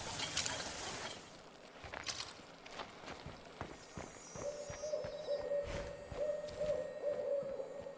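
Owls hoot at night in the game State of Decay 2, soft repeated calls under scattered footsteps and clip-clop-like knocks, with a steady tonal hum entering midway; no talking.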